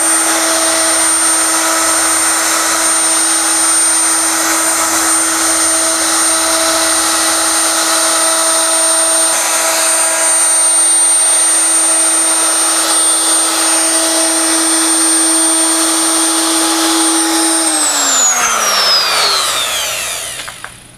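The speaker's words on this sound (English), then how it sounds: "So I'm just going to route up close to that" A router rounding over the edge of a live-edge wood slab tabletop, running at a loud, steady high whine with cutting noise, then spinning down in a falling pitch as it shuts off.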